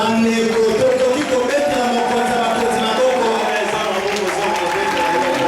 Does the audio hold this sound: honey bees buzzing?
no